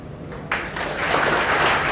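An audience claps at a coaching-class felicitation for a NEET-2023 selected student, with quiet scattered sound at first, then applause swelling suddenly and building into a steady, full round.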